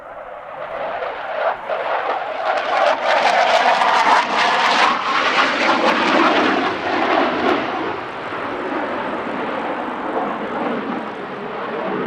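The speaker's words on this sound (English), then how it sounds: "The Hornet is Canada's sole fast jet" A CF-18 Hornet fighter jet roars past at an airshow, a loud broad engine rush that swells to a peak and then fades into a sustained distant rumble.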